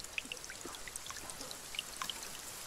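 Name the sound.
drinking water in the video game The Forest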